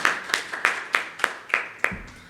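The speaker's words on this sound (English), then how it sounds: "A big round of applause." Seven crisp, evenly spaced claps ring out at a fintech panel session, steady and fairly close, ending with a low thud.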